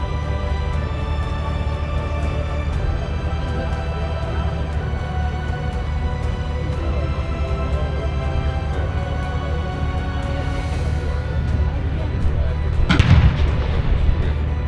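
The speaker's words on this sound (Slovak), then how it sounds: "V tomto momente húfnica vystrelila druhú strelu." A simulated shot from a Zuzana howitzer at a tank-day display, Tankové dni Laugaricio 2025: one sharp, loud blast near the end, cutting through a steady, dense rumble.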